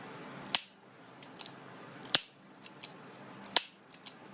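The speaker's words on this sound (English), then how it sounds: "you pull the trigger, let go just far enough to reset the action. There, you can hear it clicking" A firearm's trigger clicks as its action resets: three sharp, close, metallic clicks spaced about a second and a half apart, each followed by a couple of softer ticks, in a quiet room.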